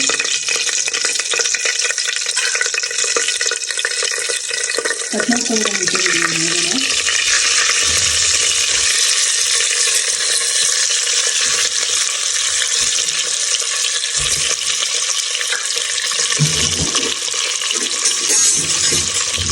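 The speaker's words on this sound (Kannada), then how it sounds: "ನೀಟಾಗಿ ಫ್ರೈ ಮಾಡ್ಕೊಳ್ಳಿ. ಈ ಥರ ತಿರ್ಸ್ಕೊಳ್ಳಿ." Masala frying in a pan for palak egg biryani, a steady loud sizzle with spatula stirring scrapes throughout, plus a brief tonal squeak partway and intermittent clatter.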